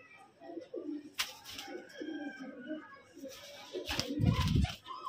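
Young pigeons coo nearby in soft, rolling calls, with wing flaps and a louder burst of cooing near the end.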